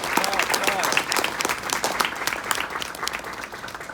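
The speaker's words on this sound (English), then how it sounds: "Clap, clap, clap." Audience applause fills the room steadily for the full length, dense and even clapping from a sizable crowd heard up close, easing slightly toward the end.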